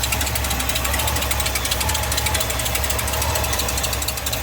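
A 1978 Ford F150 idles after a cold start with a leaking exhaust, giving a steady, loud, rough chugging drone with a fast puttering pulse and no voices.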